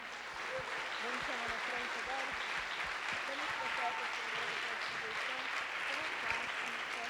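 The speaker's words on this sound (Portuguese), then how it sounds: "Você pode aplaudir o Senhor?" A church congregation at a family celebration service applauds the Lord, steady dense applause filling the room for several seconds, with voices murmuring and calling out beneath it.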